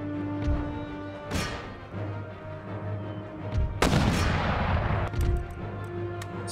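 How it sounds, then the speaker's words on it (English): Field artillery and musket volleys in the game Empire: Total War: two heavy broadband blasts ring out about two seconds apart, each with a rolling tail, over a steady droning battle score and scattered distant shots. "Stop our field artillery from firing"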